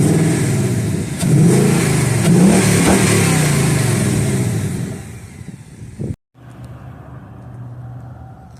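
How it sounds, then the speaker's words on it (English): A car's engine, remote-started with the key fob, cranks and catches, then revs steadily and loudly for several seconds before cutting off abruptly. A lower, quieter idle follows. "you push key start and it'll crank up"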